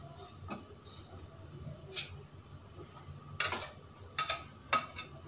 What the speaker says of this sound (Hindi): ये चम्मच के पीछे मैंने घी लगा लिया है, इसे दबा दबा कर हम अपनी बर्फी फैलाएंगे।